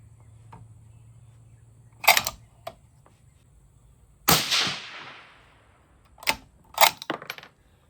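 Rifle shots fired through a Vector Optics Continental 6-48x56 scope during a tracking test at a shooting range: a few sharp, isolated cracks spaced seconds apart, one with a longer decaying tail, heard alone without talk.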